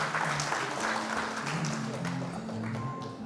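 Applause from an event audience at an official creditors' association gathering, a steady wash of clapping under a low sustained musical tone, moderately loud throughout.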